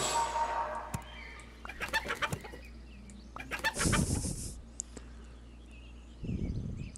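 Video game chickens: scattered clucks and squawks in short bursts, with a brief flurry of flapping wings in the middle, fairly close and moderately loud.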